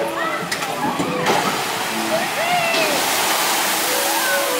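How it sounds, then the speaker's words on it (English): A Shoot the Chutes water ride boat plunges into the water at a Wild Adventures theme park in Valdosta, Georgia, making a loud, sustained rushing splash with spray hiss, while people talk and shout in the background. "Oh yeah, it makes a big splash."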